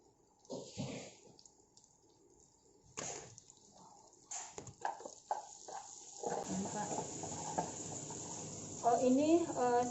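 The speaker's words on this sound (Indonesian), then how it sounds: "Tumis dulu bawang putih yang sudah dicincang." Chopped garlic hits a hot pan for oxtail soup after a few clinks and knocks of utensils, and a steady, crackling sizzle builds and continues to the end.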